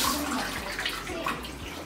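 Water runs steadily from a tap in a home during an evening routine, a continuous splashing hiss close by and alone.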